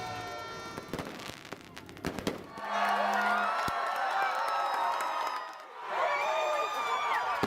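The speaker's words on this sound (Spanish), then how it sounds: "el centro de Los Ángeles se llenó de fuegos artificiales y de fiesta" Fireworks crackle and pop in downtown Los Angeles as a large crowd cheers and whoops to celebrate the Dodgers' World Series win. The roaring crowd swells and sustains in the distance, with sharp bangs at the start.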